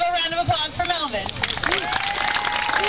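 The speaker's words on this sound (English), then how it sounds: "So give a round of applause for Melvin." Audience applause for a speaker at an Earth Day event in Berkeley, with scattered claps and crowd murmur running beneath prominent talking voices for about three seconds.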